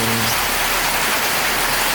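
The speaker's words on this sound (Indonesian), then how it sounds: "Ini kondisinya hujan" Steady rain falling, loud and continuous hiss filling the whole clip with no pauses and no voices.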